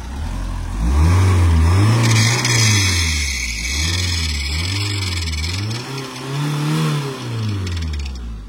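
A 2-litre diesel engine in a gold Mitsubishi Lancer runs steadily close by, its loud drone swelling and easing in slow repeated waves like light revving, with no talk over it.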